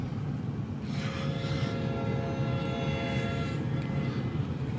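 A passenger train with a Comet 4 cab car rumbles past along a rail line at slow speed, giving a steady close roar with a whining tone and clattering wheels, no talking.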